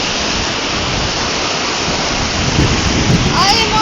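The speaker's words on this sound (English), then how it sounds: "I am on the island in the middle of a rushing river ditch." Rushing river water swollen by rain flows past a small island in a ditch-like channel, a loud, steady broadband roar with no breaks, close and continuous throughout.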